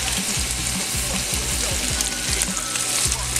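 Garlic cloves and thyme sizzling in a hot pan alongside elk steaks, a steady close frying crackle with a low rhythmic thumping underneath, no voices.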